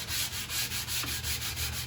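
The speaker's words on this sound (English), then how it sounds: "I'll sand" Hand sanding of a wooden picture frame, a steady rhythmic rasp of abrasive strokes, roughly four even back-and-forth passes per second, close and continuous with no talking.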